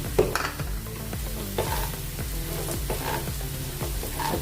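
Gram flour frying with ginger and garlic in a pan for a masala bhindi fry, giving a soft steady sizzle broken by the repeated scrape and clink of a spoon stirring against the pan.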